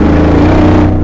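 An old classic Corvette engine roars loudly in a deep, steady drone with a strong low rumble and humming tone, close and constant with no voices over it.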